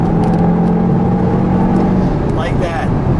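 A red 2019 Audi TT RS Quattro coupe drives at speed, its engine pulling with a steady, loud rumble and road roar throughout, while people talk over it.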